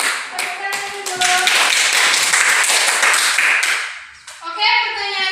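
Children in a fourth-grade social studies class clap together in a loud, dense burst that swells for a few seconds, then fades as young voices chatter over the tail.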